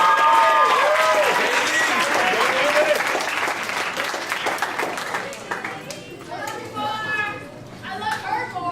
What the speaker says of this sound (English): please give a round of applause for Daily Yang.